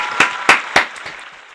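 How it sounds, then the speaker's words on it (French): Applause effect used in a podcast intro: three sharp clap-like bursts in quick succession, loud and close, followed by a couple of fainter trailing hits. "Un petit coup d'applaudissement pour Jocelyn."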